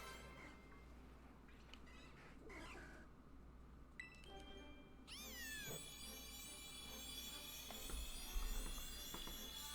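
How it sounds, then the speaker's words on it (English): Faint meowing cat amid soft outdoor background hiss in the game Pokémon Violet: The Indigo Disk, several short calls with rising and falling tones, distant and low in level, with a few scattered chirps. "cat."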